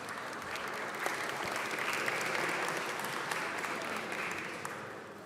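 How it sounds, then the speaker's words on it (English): Warm applause from an audience gathered at a Jewish American Heritage Month celebration on Capitol Hill, a dense wash of clapping that swells slightly and holds steady before easing off. "So let's give ourselves a warm round of applause that we're starting on time."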